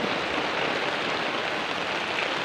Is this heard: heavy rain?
yes